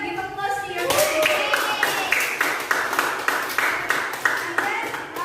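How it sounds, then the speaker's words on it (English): A classroom of students claps for themselves during a reading lesson, starting with a voice and then breaking into loud, rhythmic, fairly close hand claps that repeat in a steady beat. "Give applause to yourself."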